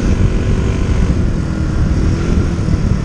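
A motorcycle engine roars steadily under throttle through its exhaust pipe, a loud, close, continuous low drone with little variation.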